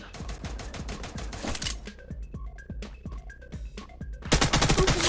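Rapid bursts of gunfire in the Free Fire mobile battle game, sharp repeated shots in quick volleys with brief pauses and small clinking effects, ending in a dense loud burst.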